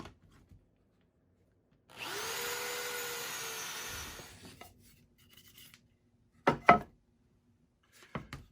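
Power drill driving Kreg pocket screws into the wooden corner joints of a sandbox: one sustained whirring run of about two seconds with a rising motor tone, followed later by a few short sharp knocks, close and alone with no talk.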